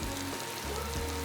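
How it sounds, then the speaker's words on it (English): Steady broadband crackle and hiss of a freshly made lasagna sizzling in a hot dish, close by and continuous, with no talking. "You can even hear it sizzling."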